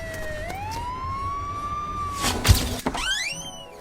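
A wailing ambulance siren sweeps up and down in pitch, fairly close, joined by a thump and a second rising siren tone near the end.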